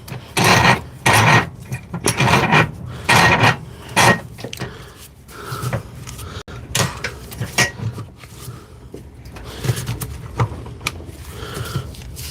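A drill chuck being tightened by hand, a series of close ratcheting, rasping mechanical bursts in uneven spurts, louder at first and then fading to lighter clicks.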